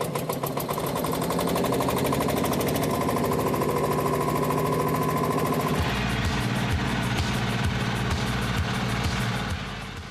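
A Porsche tractor's engine cranks with a rapid rhythmic churn, then catches and settles into a loud, steady low-pitched chugging idle with evenly spaced pulses, close and continuous.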